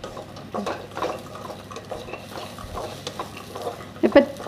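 Vegetables and green peas being sautéed and tossed in a pan for vegetable cutlets, with repeated soft scraping and clattering strokes over a low background and a sharper metallic knock near the end.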